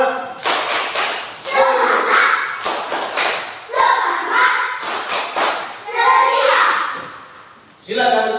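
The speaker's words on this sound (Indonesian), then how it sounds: "Tepuk semangat" A class of university students performs a chanted clapping routine, with bursts of hand claps in a patterned rhythm alternating with shouted voices, close and loud, each phrase ending in a sharp group clap.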